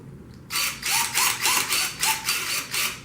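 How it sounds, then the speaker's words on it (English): A Creation ProCut CR vinyl cutter's belt tensioner is adjusted, giving a close series of about eight rhythmic ratcheting clicks, evenly spaced, heard alone without talk. "we're going to retension the belt."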